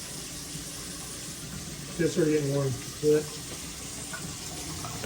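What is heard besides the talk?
water running from a tap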